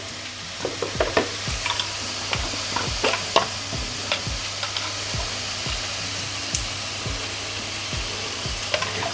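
Onions sauté in oil in a pan for a South Indian eggplant curry, sizzling steadily while a spoon scrapes and stirs in repeated rhythmic strokes, close and moderately loud, no voices.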